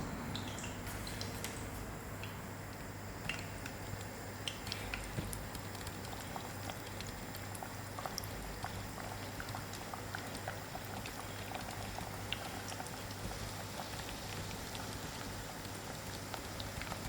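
Hot oil sizzles in a pan, ready for frying Durban-style puri: a steady, faint crackling hiss with scattered pops running continuously throughout.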